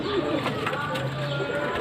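Pigeons coo softly close by, a few low, rolling calls over a faint background hum, with a voice briefly audible.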